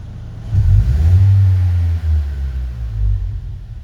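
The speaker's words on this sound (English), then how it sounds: "That's holding two mufflers on the rear." A Lexus IS200t with its axle-back exhaust deleted revs loudly through 2.5-inch pipes while two mufflers are held against the rear outlets, a deep booming rise that holds and dips briefly before a second surge, close and alone.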